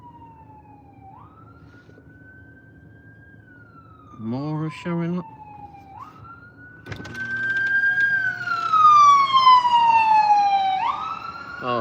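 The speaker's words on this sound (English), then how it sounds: "Oh, that's the ambulance." An ambulance siren wails at night, sweeping up and down in long rising and falling tones, growing louder and nearer partway through, while people speak over it.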